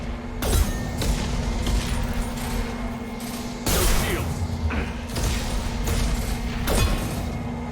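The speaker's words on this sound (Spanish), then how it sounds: "Firing an impact shot." Impact shot weapon fire in Mass Effect 2, three heavy booming bursts spaced a few seconds apart, each with a sharp onset, over a constant low game hum.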